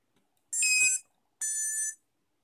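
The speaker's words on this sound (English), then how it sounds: "The little blinking blue light in the front is the cheap 12-volt LiPo sensor and alarm." A cheap 12-volt LiPo battery sensor and alarm on a quadcopter gives two shrill electronic beeps, each about half a second long, separated by a short gap, close and clear against silence.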